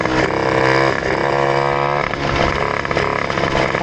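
A moped fitted with a Polini Athena engine runs close and loud, its buzzing, harmonic drone holding steady with slight rises and dips in pitch and no voices over it.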